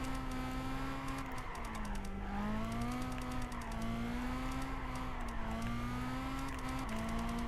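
Mazda MX-5 Miata engine drifting in Gran Turismo 5, a steady droning whine that rises and falls with revs and tyre noise, continuous and loud throughout.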